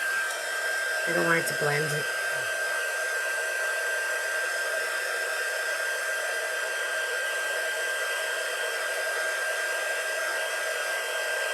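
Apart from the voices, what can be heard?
hair dryer drying paint on an ornament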